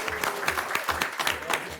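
A council meeting audience claps in a brief, dense burst of applause that stays steady and fairly close for under two seconds.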